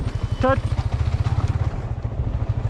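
A Yamaha MT-15 motorcycle rides off-road on a rough, dangerous road in Nepal, its engine a close, steady rhythmic thrum throughout, with a brief voice near the start.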